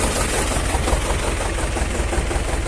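A Vladimirets T-25 tractor that had sat unused for two weeks runs with its engine at a steady, loud, close rumble, an even mechanical roar with no pauses and no voices.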